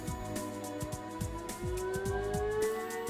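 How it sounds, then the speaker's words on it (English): A fire station siren wails steadily at night, its rising tone sustained and loud throughout, with rhythmic low thumps underneath and no talking. "Hello, fire station siren."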